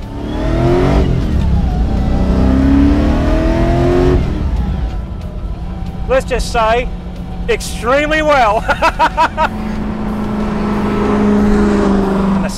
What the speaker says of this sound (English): the growl, the snarl, the exhaust note, that supercharger whine, the induction noise